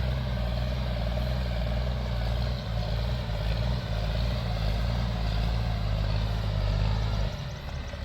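A New Holland T6050 125 hp tractor pushes soil at full throttle, its heavy diesel engine droning loud and steady nearby before easing slightly at the very end, with no voices.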